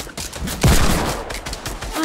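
Gunfire in a video game: a sharp burst of shots, then another shot near the end, over a busy background.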